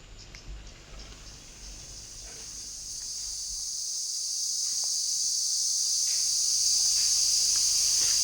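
Insects, believed to be crickets, chirp in a forest as a loud, continuous high-pitched drone that swells and grows steadier over time, with faint rustling and handling noises early on.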